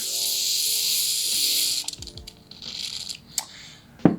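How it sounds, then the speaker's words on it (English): Degreaser hisses out of a spray can in a steady burst into the shifter of a Trek Y33 bicycle, followed by a few softer short sprays and small clicks. "So spray it out really good"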